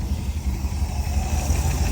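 A 1967 Lincoln's engine running steadily with a low, continuous rumble, close and fairly loud, heard alone without speech.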